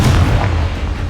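Confringo blasting spell exploding in the wizard game Hogwarts Legacy, a single loud, close, heavy boom that decays into a rumbling tail.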